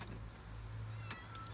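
A cat meows once, faint and short, in a garage where a Mercedes E320 valve cover is being worked on, under a steady low hum with a few light clicks.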